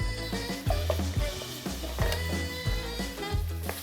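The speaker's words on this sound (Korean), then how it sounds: "넣으시면 이렇게 나무주걱으로 부수면서 익혀주세요" Minced meat frying in a pan over medium heat, broken up with a wooden spatula; steady close sizzle with repeated scraping, pushing knocks roughly every half second, no talk.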